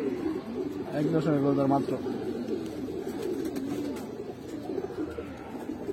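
Pigeons of several breeds, including Giribaz, coo in low rolling phrases, most clearly in the first two seconds, while someone speaks briefly nearby over a steady background murmur.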